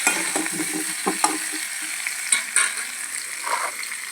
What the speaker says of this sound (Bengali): দেখো আমি আলুগুলো ভালো করে ভেজে নিচ্ছি।